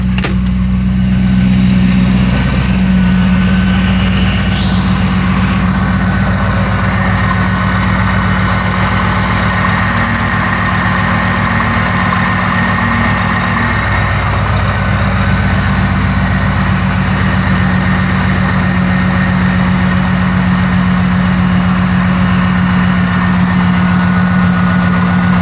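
A Corvette with an adjustable tune idles steadily after a cold start, giving a loud, even low rumble that runs unbroken from start to finish with no talking.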